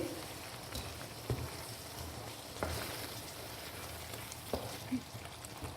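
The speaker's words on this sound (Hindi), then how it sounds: "हम इसको अच्छा सा भुनेंगे।" Black pepper frying in oil for a shalgam gosht (turnip and mutton) curry, a steady soft sizzle with a few faint ticks and pops, close and fairly quiet, with no talk.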